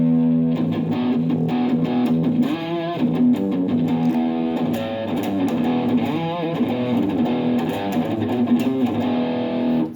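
A distorted electric guitar with single-coil pickups plays through an amp preamp model effect, chords and riffs crunchy and sustained, with a steady low hum running beneath the notes.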